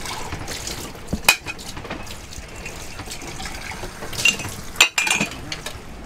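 Fresh water runs from a tap in a sailboat galley during a quick dish rinse, with a steady trickle and splash broken by a few sharp clinks of dishes.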